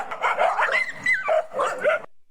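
A dog in a played clip of a handler knocking it down in an alpha roll gives a continuous run of whining yelps and short barks, close and fairly loud, lasting about two seconds before stopping abruptly.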